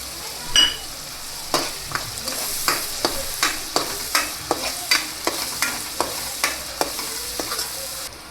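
Onion paste sizzles steadily in a hot pan for a Gujarati drumstick and garlic curry, with a spoon scraping and stirring in an even rhythm of roughly one stroke per second, close and clear, with no talking.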